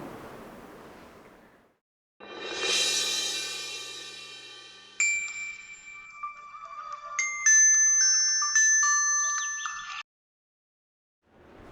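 A phone ringtone plays, a looping electronic melody of stepping tones that follows a soft whooshing noise and then stops abruptly.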